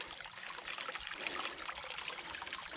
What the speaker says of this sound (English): Get all the water out of that part, down to this pit